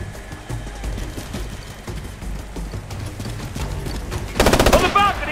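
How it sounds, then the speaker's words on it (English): Rapid machine gun fire in Ghost Recon Future Soldier, a dense burst of repeated shots near the end following scattered firefight sounds, with voices shouting over the combat. "Loud machine gun!"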